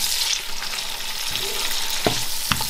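Salmon pieces frying and tossed around in a pan for creamy salmon pasta, a steady low sizzle with a couple of sharp utensil scrapes near the end, close but modest in level, no speech.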